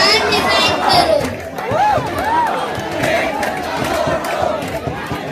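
Dense crowd near the stage at a Jantar Mantar gathering, loud close chatter and shouting from many voices overlapping continuously, with rising and falling yells throughout.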